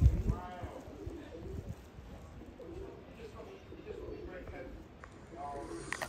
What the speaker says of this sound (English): there is three beautiful birds, and there's a white one now appeared